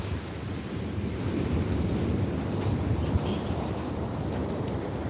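Ocean waves wash onto a beach at sunset, a steady roar of surf blended with wind buffeting the microphone, continuous and fairly loud with no speech.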